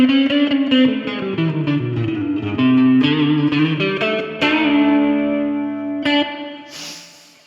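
Electric guitar played through a JD Pedals Sunday Drive saturation pedal, with strummed and picked chords ringing with light grit and sustain, then a final chord decaying into a noisy scrape, no talk.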